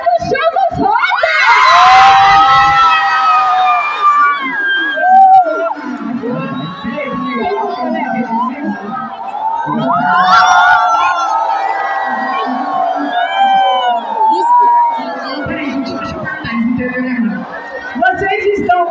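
A large crowd at the Rosas show at Pecuária de Goiânia lets out loud, sustained vocal noise, swelling and falling over nearly twenty seconds alongside a voice over the loudspeakers.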